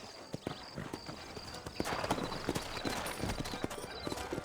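Horses' hooves clip-clop on the ground in a western video game, a steady, fairly near rhythm of sharp hoof strikes that grows busier partway through, with a brief voice heard faintly.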